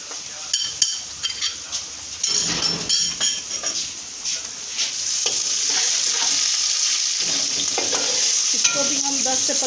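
Ginger garlic paste frying in a pan with spices, giving a steady loud sizzle and hiss, with stirring clinks and scrapes of a utensil against the pan early on.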